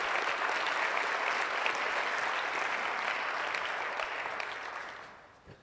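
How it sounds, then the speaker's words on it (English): A church congregation claps in a broad, even wash of applause that holds steady, then fades away toward the end, with no voices over it. "you don't have to clap"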